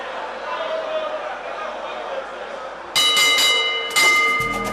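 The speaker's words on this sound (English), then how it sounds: "Bell goes for the end of the round" A boxing ring bell ends the round with two sharp metallic rings about a second apart. They cut through crowd noise and a commentator's voice, following a stretch of steady talk.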